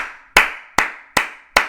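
Sparse crowd clapping in a football video game stadium: four separate sharp claps spaced about 0.4 s apart, each with a quick decaying tail, fairly close and with no talk over them.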